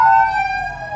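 Yokohama Fire Bureau ambulance siren on a street in Japan, loud and close with a falling wailing tone fading over a second.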